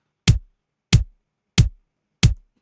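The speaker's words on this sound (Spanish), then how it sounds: "Así suena el kick cuando él lo envió." Four dry, unprocessed kick drum hits land evenly spaced, each a punchy low thump with a quick decay and silence between.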